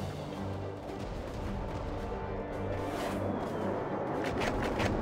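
Cannon fire in the World War Armies video game, a dense continuous barrage of booms and gunfire rumbling steadily under an ongoing battle din, with no clear gaps.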